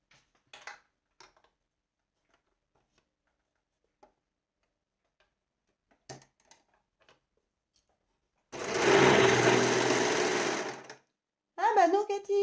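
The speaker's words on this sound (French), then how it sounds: "Je fais les coutures d'épaule." Sewing machine stitches shoulder seams in a short, loud burst of motor whir after scattered quiet clicks and handling noises, followed by a brief spoken remark.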